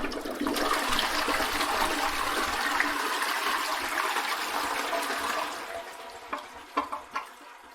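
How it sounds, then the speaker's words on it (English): A toilet flushing, a loud rushing gush of water lasting several seconds that fades into gurgles and trickles as the tank refills, heard close and alone. "it was the sound of a toilet flushing"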